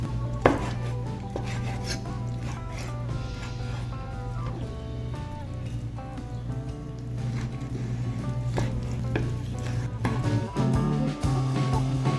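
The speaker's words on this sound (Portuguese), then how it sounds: "Então eu vou cortar como se fosse cubinhos, mas não é tão cubinho, né?" Knife slicing raw fish into thin strips for sashimi on a cutting board, a steady run of soft cuts and scrapes for several seconds with a low hum underneath.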